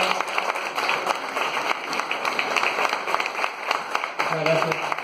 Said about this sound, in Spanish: Un aplauso a Java.